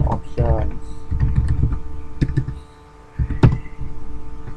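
Quick bursts of computer keyboard clicks as a command is typed in a penetration-testing terminal session, close and fairly loud, with a short pause midway and a brief voice-like sound near the start.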